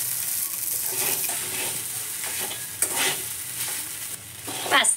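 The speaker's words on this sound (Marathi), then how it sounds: "बघा आपण हे साबुदाणे याच्यामध्ये सगळे टाकून घेतोय हलवून" Sabudana (tapioca pearls) being stirred in a pan over low heat, a gentle steady sizzle with occasional scraping strokes, close and moderate in level.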